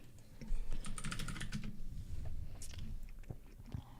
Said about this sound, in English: Your mechanical keyboard there